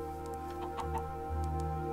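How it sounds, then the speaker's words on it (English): Minecraft chicken clucking in a survival world, version 1.19.4, a couple of short clucks over steady game music. "Hello, chicken."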